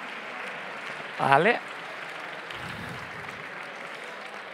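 An audience at an award ceremony for a hackathon winner keeps up a steady bed of applause, broken by a short loud spoken exclamation near the start and a low murmur of voices partway through.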